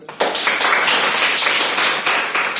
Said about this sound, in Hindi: इस बच्चे के लिए ताली बजा दो